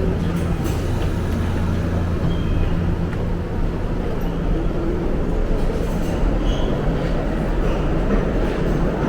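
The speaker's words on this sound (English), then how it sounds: "We want to be headed to Queens, and we just missed the train." A New York City subway train pulls out of the station, a loud, steady rumble of wheels and cars rolling on the rails throughout, with a faint high squeal at times.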